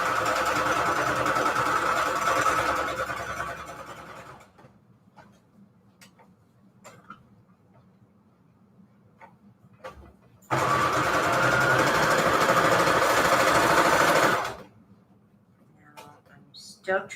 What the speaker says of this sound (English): Still trying to work on sewing rounded edges.